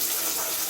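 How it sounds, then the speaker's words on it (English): Cold tap water running steadily over beans being rinsed, a continuous bright hissing gush, close and alone. "Just rinse your beans in cold water."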